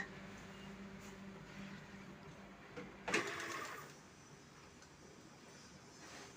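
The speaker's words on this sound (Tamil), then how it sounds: "இப்போ அப்படியே நெட்டாக தைச்சுக்குங்க" A sewing machine stitches a straight seam on a blouse's V-neck and hook placket, with a steady close whirring hum and a louder burst of stitching midway, no talking.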